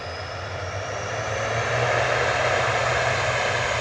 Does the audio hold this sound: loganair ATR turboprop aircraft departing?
yes